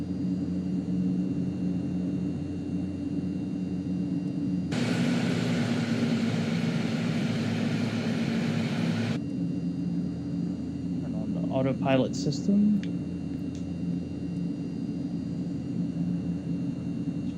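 A continuous low turboprop drone from an MU-2 in Microsoft Flight Simulator 2020 runs throughout, a broader rushing wash swells for a few seconds in the middle, and someone talks over it, with some brief higher beeps near the end.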